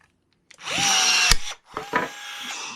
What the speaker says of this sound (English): let's get this Milwaukee pop rivet gun